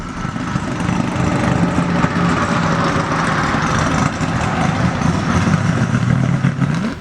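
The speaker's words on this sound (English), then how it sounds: "2019 Mustang GT we're racing now" A 2019 Mustang GT V8 with a 10-speed transmission runs hard during a race, heard as a steady, loud, droning engine roar that climbs in pitch as it pulls, with no talk over it.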